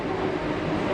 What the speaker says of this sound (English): I am in a tubular underground train.